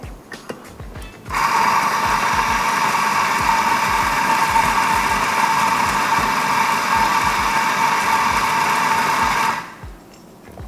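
A Nuova Simonelli MDXS espresso grinder grinds coffee in a loud, continuous motor hum with a ratcheting grind. It holds steady for about eight seconds, then spins down to quiet, with no voices over it.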